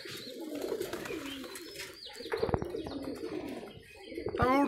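A caught female Giribaz high-flyer pigeon coos close by in low rolling calls, with someone talking over them and a brief flutter and chirp near the end.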